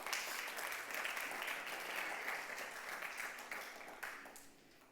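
Church congregation applauding at a Sunday service, a steady wash of many hands clapping at moderate loudness for about five seconds, tapering slightly near the end.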